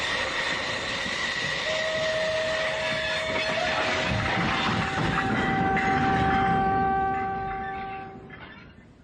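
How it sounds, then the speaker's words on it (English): The Cromer Express train rolls steadily along the rails, a loud continuous rumble with a sustained wheel squeal and metallic ringing tones, fading slightly at the end. "When does this train stop? It doesn't stop. It's straight through to London."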